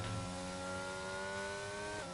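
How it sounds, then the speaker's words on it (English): F1 22 race cars accelerate at the Spain circuit: a loud, sustained engine whine climbs steadily in pitch, then dips sharply at a gear shift near the end. "the flags go green, the cars go vroom, and we resume racing once again"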